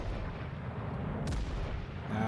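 Warship main guns firing in World of Warships: Legends, a dense continuous boom of heavy gunfire with a sharp crack near the middle, loud and sustained throughout.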